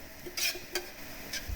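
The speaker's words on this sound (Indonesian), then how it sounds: "Dan masak bumbu halus hingga matang." Ground spice paste frying in ghee in a pan for biryani, with a few short scraping stirs of a utensil against the pan over a faint sizzle.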